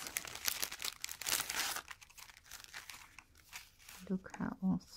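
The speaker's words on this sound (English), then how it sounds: "These are all paper doilies." Paper doilies crinkle and rustle as they are handled and unwrapped from an envelope, close up, with a few louder crumpling bursts near the end and light talk mixed in.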